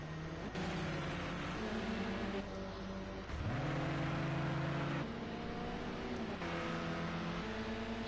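A race car in a racing video game laps the Brands Hatch track, its engine whining up through the gears with rising pitch sweeps, dropping on shifts and braking, steady and fairly close with no talk.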